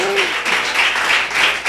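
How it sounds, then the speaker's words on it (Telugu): A church congregation claps loudly and steadily together during a Sunday worship service, a dense continuous patter filling the hall, with a voice briefly heard at the start. "గట్టిగా చప్పట్లు కొట్టాలి"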